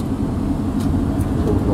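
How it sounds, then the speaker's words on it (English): Steady road noise from a car driving on a busy single-lane highway in Costa Rica, heading from San Jose toward the Arenal area, with continuous low engine and tire rumble and no talking. "it's only one lane going in each direction with occasional passing zones and lots of traffic"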